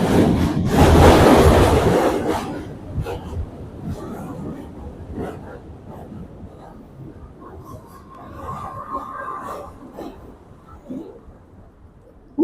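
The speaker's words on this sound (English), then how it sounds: "Ooh, those trains are loud, baby." Subway trains rumbling across the Manhattan Bridge in New York City, loudest in a heavy roar at the start and then settling into a lower rattling clatter, with faint speech and wind noise around it.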